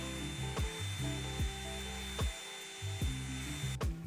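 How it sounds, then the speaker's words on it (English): A blow dryer drying a girl's braided natural hair after washing, a steady close whir with its tone dipping and shifting repeatedly as it moves around the hair, with no talking. "That's my main goal in using the blow dryer with her hair in this session."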